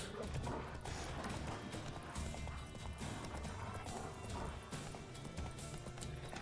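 Roach from The Witcher 3 gallops in quick, driving hoofbeats and lets out a neigh, all loud and close under a busy game soundscape.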